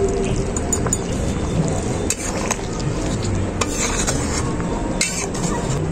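A spice mix of whole spices, cinnamon among them, is stirred into chicken in a kadai for dak bungalow chicken. The clanking and scraping of the utensil against the pan is loud and close, over a steady sizzle.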